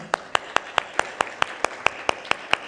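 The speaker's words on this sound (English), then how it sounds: "you have to keep clapping" Audience applause at a customer experience panel event, heard as about eleven sharp, evenly spaced claps at a steady rhythm, fairly close and moderately loud, with no talking.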